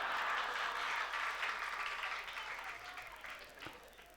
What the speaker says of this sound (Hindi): बहुत सारे छोटे छोटे बच्चे होंगे, उस समय नहीं थे जो आज ताली बजा रहे हैं।